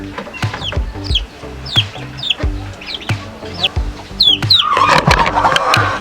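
Chicks, one of them weak and sick, peeping in a repeated series of high, short calls over a low background of clucking fowl, close by, with a noisier burst near the end.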